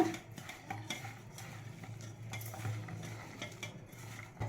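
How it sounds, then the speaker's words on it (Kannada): Salt is mixed into cooked rice with a spoon for rice pakoda. Quiet, close scraping and soft clinks of a utensil against the vessel come in an irregular rhythm, with no talk. "ಉಪ್ಪು ರುಚಿಗೆ ತಕ್ಕಷ್ಟು ಹಾಕಬೇಕು ನಾನು ಅನ್ನ ಇದೆ ಇಷ್ಟು ಹಾಕ್ತೀನಿ ಸ್ವಲ್ಪ ಇದನ್ನು ಮಿಕ್ಸ್ ಮಾಡ್ಕೊಳ್ಳೋಣ"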